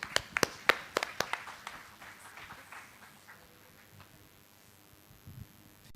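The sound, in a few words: audience applause for a speaker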